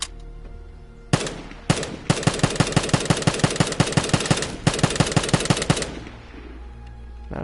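Automatic gunfire from a video game weapon, rapid evenly spaced shots in two long bursts with a short break between them, loud and close, with no talk over it.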